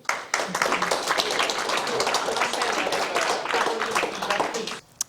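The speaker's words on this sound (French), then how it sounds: "Alors, on peut déjà vous applaudir." Audience applause after a talk on number acquisition and dyspraxia, a dense steady wash of many hands clapping for about five seconds before stopping abruptly, with voices mixed in.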